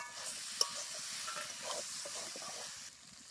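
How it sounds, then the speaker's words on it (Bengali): Banana flower curry sautéed in a pan: a soft, steady hiss of frying with faint stirring scrapes and one brief clink near the start, fairly quiet and without speech. "আমি এবার ভেজে রাখা তো দিয়ে দেব দিয়ে একটু কষে নেব ভালো করে"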